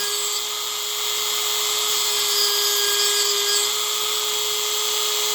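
A Dremel rotary tool grinds steady and high-pitched while sharpening a chainsaw chain, a loud continuous whine held close up without a break.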